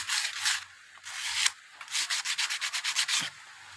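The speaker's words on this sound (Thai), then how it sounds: "แล้วก็ไล่ขัดเอาครับ" Sandpaper rubs on an acrylic handle of a durian-cutting knife, starting with long uneven strokes, then a quick run of short, steady back-and-forth scrapes, close and alone.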